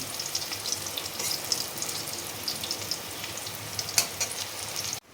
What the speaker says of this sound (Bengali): ভাজা হয়ে গেছে কিন্তু একটু ভালো করে উল্টো পাল্টা ভেজে নিয়েছি